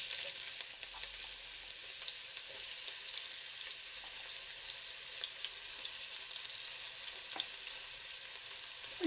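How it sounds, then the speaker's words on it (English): Chopped onions frying in oil in a pan, giving a steady, even sizzle heard up close with nothing else over it. "So to the pan, I'm going to add my oil. I'm going to add my chopped onions."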